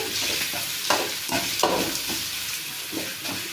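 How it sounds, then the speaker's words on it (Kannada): Chicken frying in a pan with salt added, browning under steady stirring: a continuous close sizzle with repeated scraping strokes of a spoon at irregular intervals, no voices. "ಸ್ವಲ್ಪ ಬ್ರೌನ್ ಕಲರ್ವರೆಗೂ ಫ್ರೈ ಮಾಡೋಣ"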